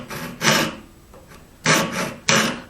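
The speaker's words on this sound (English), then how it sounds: "I'm going to go ahead and file a flat" A flat filed on the tip of a piece of steel with an auger bit file while making a marking gauge: three separate rasping push strokes, close and loud, with quiet gaps between them.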